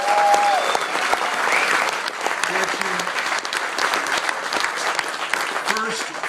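An audience at a class reunion breaks into sustained applause for a college dean, a dense wash of clapping from a large crowd with scattered cheers and voices mixed in.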